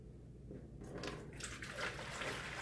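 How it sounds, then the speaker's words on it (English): Water poured into a yellow mixing bowl, a quiet steady splashing and trickling that swells after the first second and keeps running without pause, no voices. "and I will pour this water"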